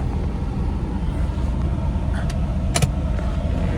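A Corvette rolls slowly through snow, its rear-wheel-drive engine giving a steady low rumble that stays loud and close throughout, with a brief jingling rattle near the end.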